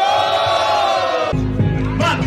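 A crowd at a Brazilian rap battle roars with a loud, sustained group shout that breaks into a rougher burst of cheering partway through, close and dense throughout.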